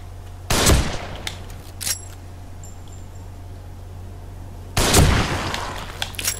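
Two loud gunshots in The Evil Within video game, a few seconds apart, each a sharp blast with a ringing tail over a low game hum, with no talking.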